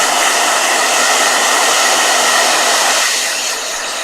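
A blow dryer runs loud and steady at close range, a continuous whooshing roar with a constant motor whine that drops slightly in level toward the end, with no voices over it.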